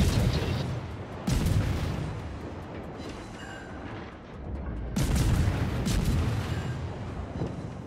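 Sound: naval guns firing in World of Warships video game

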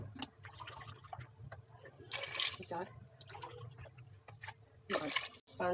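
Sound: glasses of water poured into cooking pot

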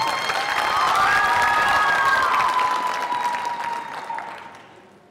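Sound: audience applause and cheering

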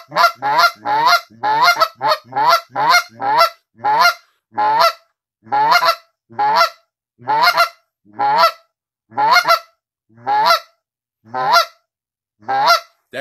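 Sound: goose call imitating geese honking

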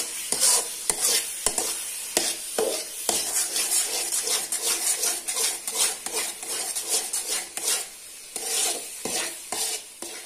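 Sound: stirring jackfruit halwa with ghee in a pan

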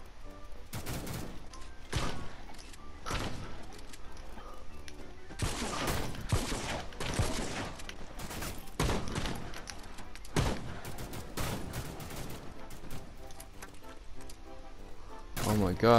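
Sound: shotgun firing in video game The Mean Greens

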